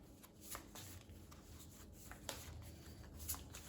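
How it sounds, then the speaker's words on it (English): Game cards from Dice Throne Adventures being shuffled by hand at a tabletop, soft riffling and sliding with occasional sharper snaps, quiet and close with low room noise. "Shuffle these up a little bit."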